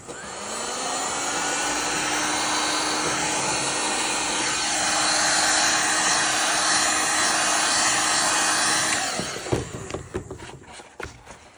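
A heat tool blows a steady, loud whir for about nine seconds while warming the plastic crest of a triceratops model kit, then cuts off, leaving a few light handling taps.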